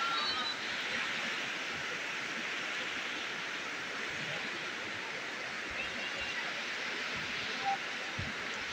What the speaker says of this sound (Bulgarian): Ето, вижте, последващите прагове от водопада